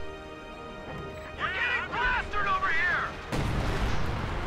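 Artillery fire in a World War II real-time strategy game lands as a heavy boom and crash near the end, after a stretch of game sound under excited commentary.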